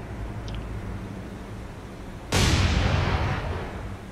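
Naval gunfire erupts in the game War on the Sea: a single loud, broadband boom that tails off over a second or so, preceded by quieter ambient rumble.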